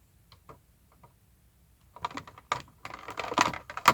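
A knife cuts through packaging in a sequence of dry, close scraping and snapping sounds, faint and sparse at first, then louder and denser, with no talking.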